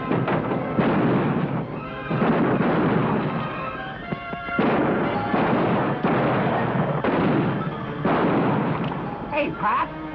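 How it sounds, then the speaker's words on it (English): Gunfire in a western film street shootout, heard as loud repeated bursts of shots and crashing noise in several waves, with horse whinnies and a brief voice mixed in. "Somebody's always shooting at us."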